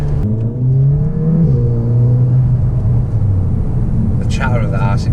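A car with a 1.6-litre engine and a big aftermarket exhaust rumbles steadily close by, its low drone rising and falling slightly, with a brief higher whine near the end.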